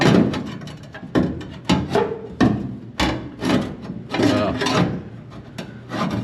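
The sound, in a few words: trimming a GTO floor pan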